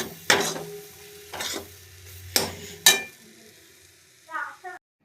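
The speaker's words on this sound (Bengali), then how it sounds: "দিয়ে এবার কড়াইয়ে নাড়ছি" A spiced pea filling with sugar, salt, cumin and chili powder is stirred in oil in a wok. Four separate close scraping bursts come at a steady pace, with short quiet gaps between them.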